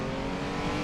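1950s racing cars of 2 and 1.5 litres accelerating at Goodwood on a damp track, a loud, close, continuous engine roar filling the whole moment.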